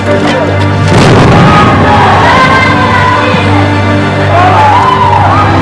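Heavy artillery fire from Bosnian war footage, with a deep boom early on amid a loud, continuous rumble of the battle scene, and shouting voices mixed in.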